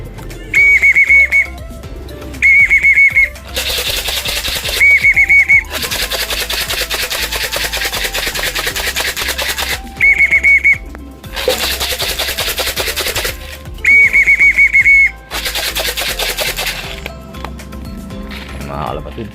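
Person whistling to call pigeons, with repeated short high-pitched whistle bursts alternating with loud clattering and flapping noise, all close and strong.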